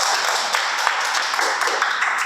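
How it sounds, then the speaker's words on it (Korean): Classroom audience applause during a school-violence-prevention role-play workshop, a steady dense patter of many hands clapping at close range that fills the whole moment without pause. "박수 한번 해주세요."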